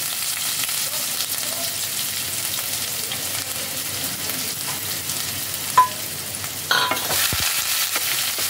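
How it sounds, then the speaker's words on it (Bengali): Chopped onion frying in oil in a pan, a steady close sizzle with occasional stirring knocks and a brief louder scrape near the end. "পেঁয়াজটাকে তেলের মধ্যে ভালোভাবে ফ্রাই করতে হবে।"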